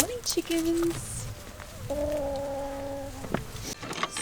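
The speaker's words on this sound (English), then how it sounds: "Good morning, chickens." Backyard hens in a coop in the early morning give a few soft clucks and drawn-out tonal calls, near and moderately quiet, with light rustling around them.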